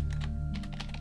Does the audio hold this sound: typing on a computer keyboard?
yes